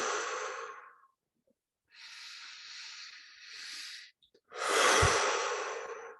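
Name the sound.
deep breathing exercise during guided meditation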